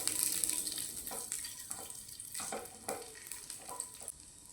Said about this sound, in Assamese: এতিয়া কাজু আৰু কিচমিচখিনি অলপমান সময়ৰ কাৰণে এইখিনি ফ্ৰাই কৰি ল'ম।